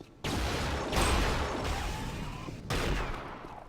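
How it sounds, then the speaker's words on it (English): Sniper rifle fire in an Unreal Tournament 1v1 duel on the Agony map, with sharp loud shots bursting in and ringing out, a couple of heavy blasts in quick succession over a busy game background. "Sniper battle through the windows."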